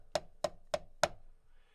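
Four distinct snare drum strokes of an open double-stroke roll ring out in an even, steady rhythm, each hit clearly separated and crisp, close up.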